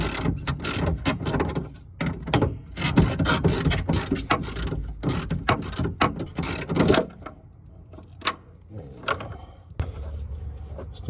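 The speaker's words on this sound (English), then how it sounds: "I'm gonna take this bolt off here" A wrench ratchets a bolt off a roll-back truck bed cover, rapid close clicking bursts, then sparser single clicks and knocks toward the end.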